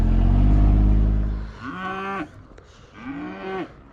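Cattle lowing in a farm field where fences are being worked on, two long drawn-out moos one after another after a loud low rumble at the start, near and clear with no talking.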